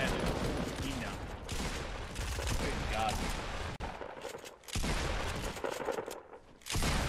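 Rapid gunfire from the Fortnite video game rattles steadily through most of the stretch, loud and dense, with brief pauses near the middle and later, mixed with game effects.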